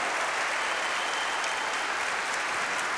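A congregation at a Catholic Mass applauds during the homily, a thick, even wash of many hands clapping at once, sustained and fairly loud throughout without any speech.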